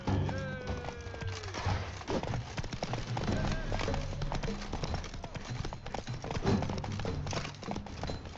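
Horse hooves clip-clopping during a mounted fight in The Witcher 3: Wild Hunt, Blood and Wine expansion, rapid galloping thuds mixed with clashing game effects and music, with voices talking over it.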